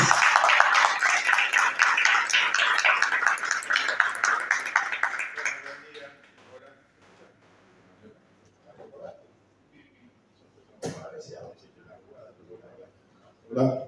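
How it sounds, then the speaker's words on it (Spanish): A seminar audience at a football coaching event claps loudly to welcome the speaker for about five seconds, then the applause fades into a quiet room with scattered small noises and a faint voice. "Fuerte aplauso, así nos sacamos la timidez."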